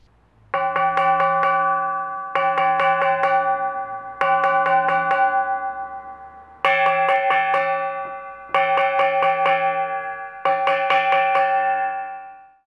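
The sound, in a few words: gong played on centre and rim for lion dance music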